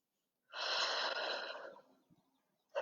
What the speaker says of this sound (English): Full inhale through your nose. Exhale, curl up.